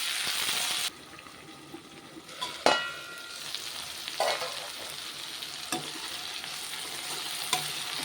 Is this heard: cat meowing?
no